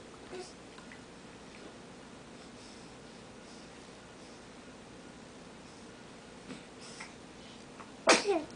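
A single sharp sneeze near the end, following a long stretch of quiet room noise.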